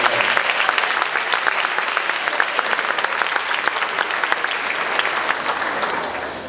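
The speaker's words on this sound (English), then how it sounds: "Quick round of applause for the team." Applause fills the room for a youth baseball team at an awards ceremony, a dense, loud, sustained clatter of many hands that tapers slightly at the end.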